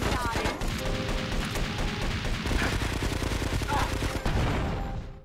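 Sustained gunfire from a gun in GTA Vice City Stories, a dense rapid stream of loud shots with booming low end running the whole stretch without pause.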